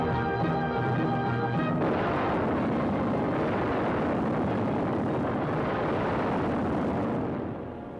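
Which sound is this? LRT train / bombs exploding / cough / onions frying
bombs exploding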